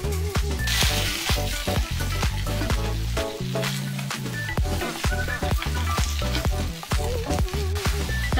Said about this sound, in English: Now I'm going to saute all of my veggies just for about 6 to 7 minutes.